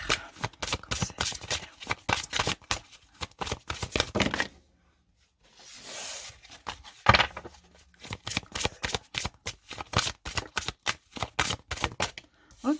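Oracle cards being shuffled for a tarot reading, with rapid crisp riffling bursts up close, a short pause midway, then more steady shuffling.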